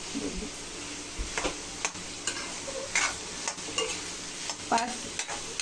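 Soybeans frying over high heat in a pan, an even close sizzle punctuated by sharp scraping and tapping stirs every second or so, with nobody talking.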